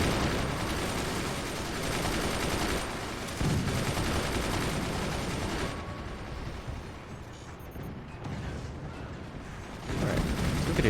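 Gunner weapons fire in the video game Forts, a dense, continuous rumble of overlapping shots and impacts that swells and dips over a constant background roar.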